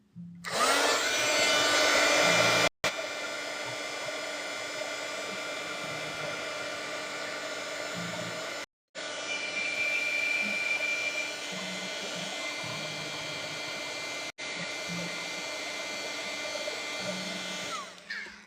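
Hair dryer blowing on a watercolor postcard painting, a loud steady whirring drone running in long stretches with brief cutoffs between them.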